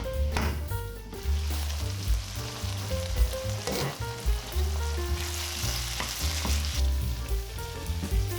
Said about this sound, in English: Cook it for a few minutes and add your chopped peppers. Add some salt and cook it for 10 minutes.